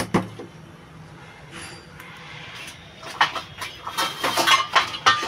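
A lid goes onto a pot of elephant foot yam boiling with a little salt. After a quiet start, a burst of close metallic clatters and knocks rattles through the second half.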